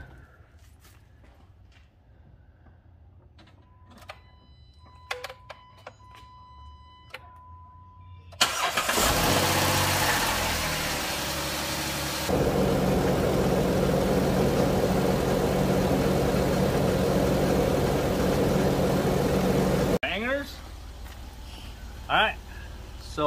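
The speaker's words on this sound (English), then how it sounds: "So we're still warming up the engine." A 2011 Jeep Wrangler Unlimited Sahara with a cooling-system fault cranks and fires up after some clicks and clatter, then settles into a loud steady idle that steps up in pitch before cutting out, with people talking nearby.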